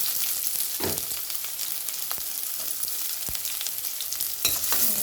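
Sliced onions sautéing in oil with popped mustard seeds for an okra stir-fry make a steady close sizzle. Sharp spatula clicks and scrapes break through now and then, with no one speaking.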